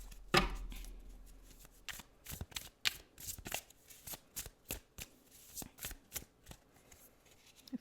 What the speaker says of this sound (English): So let's pull some tarot cards to go over each one.